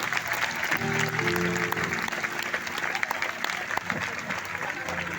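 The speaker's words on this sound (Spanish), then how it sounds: "Puede sentarse y dar un aplauso a Jesús." A church congregation gathered in a stadium applauds in a sustained, dense wash of clapping, with crowd noise and voices mixed in.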